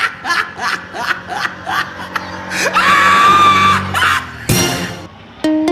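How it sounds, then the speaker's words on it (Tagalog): Riders scream and yell on a spinning amusement ride in Puerto Galera, with repeated loud whoops and shrieks rising and falling in bursts, mixed with crowd noise and a long sustained cry near the end. "Sigaw pa, siguro nalulula na yun."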